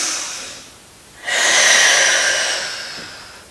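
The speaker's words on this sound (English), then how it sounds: "Just breathing it out" A slow, deep exhale through the mouth during a yoga flow focused on the throat and neck, a long breathy rush that swells, holds, then fades after a brief quieter breath, close and clear with no talking.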